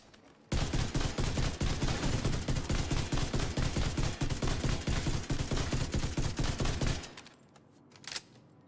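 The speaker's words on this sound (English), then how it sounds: "More fire rate makes this gun look ridiculous." Rapid automatic gunfire from a gun in The Division 2, a loud, dense burst of quick shots lasting about six seconds, then stopping abruptly, followed by a brief faint mechanical click.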